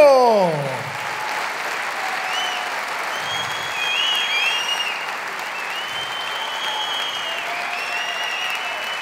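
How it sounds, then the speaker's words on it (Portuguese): A theatre audience at the Tivoli claps and cheers continuously for a comedian, a dense, steady wash of applause, with tonal music stings ringing out over it. "Uma salva de palmas para Marco Horácio!"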